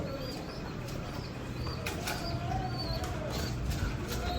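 Red Lahori pigeons coo in a loft, soft repeated low calls over a continuous background murmur, with a few sharp chirps and brief wing flaps scattered through.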